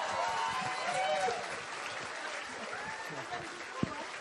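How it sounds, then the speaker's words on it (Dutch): Audience applause at a ceremony honouring a person, a steady wash of clapping from a crowd that swells briefly then holds at a moderate level, with a sharp single clap or knock near the end. "Applaus!"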